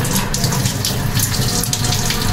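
Fresh fish roe is rinsed clean under a running tap: a loud, continuous gush of water splashes over it, with uneven sloshing bursts as the stream hits the roe and the basin.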